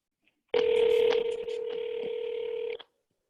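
A telephone dialing an outgoing call, with a short burst of touch-tone digits followed by a steady tone lasting about two seconds. It is fairly quiet and clear, with no voices.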